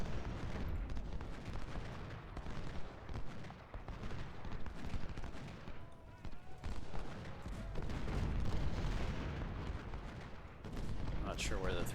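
Massed infantry musket fire in a Civil War strategy game set at Cedar Mountain, a dense, continuous crackle of volleys rolling on throughout, with someone talking over it.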